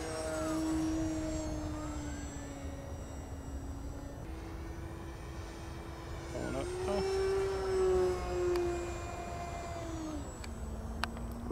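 An H-King F6F Hellcat Reno Aces radio-controlled warbird flying: a steady, fairly loud motor drone that rises and falls in pitch as it passes, continuous throughout with no pause.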